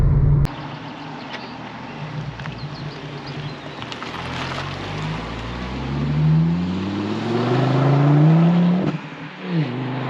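A Ford Focus ST3 with a 2.5-litre five-cylinder engine drives steadily, then accelerates hard with a rising, loud engine note that climbs through the gears before easing off.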